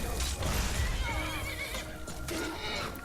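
Horse in Skyrim Dawnguard whinnying loudly after being struck, a sustained close neigh with a hoof clatter beneath, over game ambience.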